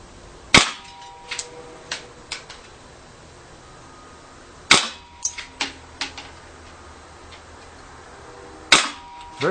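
Dan Wesson airsoft revolver firing in single action, three sharp loud cracks spaced about four seconds apart, each followed by faint clicks and clinks of the cylinder being cocked and pellets hitting nearby.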